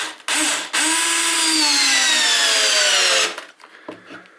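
A Black+Decker BL188 cordless drill on a freshly charged battery whirs loudly, stops briefly, then grinds steadily into wood for a few seconds, its pitch slowly dropping under load before cutting off.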